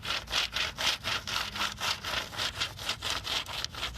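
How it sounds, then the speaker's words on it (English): Crayon scraping back and forth over paper held against oak tree bark, a rhythmic rough rasping of about ten close, even strokes, with no voices. "So here's a bark rubbing. This is from an oak tree here."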